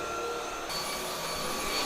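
A cordless self-standing stick vacuum cleaner runs steadily with a constant high-pitched motor whine and airflow rush, close and even, with no talking.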